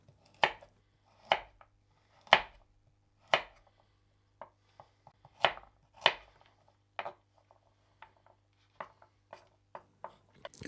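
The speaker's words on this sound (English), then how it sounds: "cut your carrots Harry Potter fashion, diagonally" Knife chopping baby carrots diagonally on a cutting board, a series of close, crisp chops spaced unevenly, a few heavier strokes followed by lighter quicker taps, alone in a quiet kitchen.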